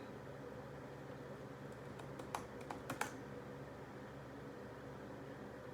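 Quick keystrokes on a computer keyboard, a short faint burst of clicks in the middle of a quiet room with steady background hiss.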